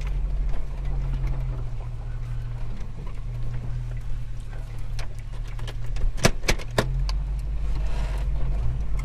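A car reverses slowly into a beach parking spot, its low steady engine hum droning throughout with a few sharp knocks and clicks near the middle, no speech.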